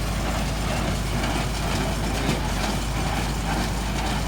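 Kubota L5018 tractor driving an HB130 straw baler on a system test, giving a steady, loud low engine drone with constant mechanical rumble and no speech.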